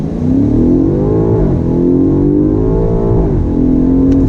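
A 2019 BMW M5 Competition sedan's engine revs hard and climbs steadily in pitch as it accelerates from a dead stop, with a brief shift partway through before it pulls up again. It is loud and close.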